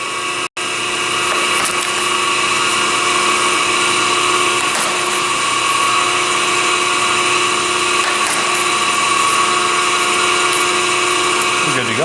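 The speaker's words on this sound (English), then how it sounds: "we'll dump the putty back in. Do an auto cycle here." An Extrude Hone Profile 200 Series abrasive flow machine running an auto cycle, a loud continuous mechanical whine and hum that stops briefly near the start before resuming steadily.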